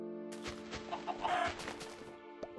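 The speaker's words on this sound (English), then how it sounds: "I got a chicken." A Minecraft chicken clucks in a few short, close bursts over a quiet, steady game background with no talk.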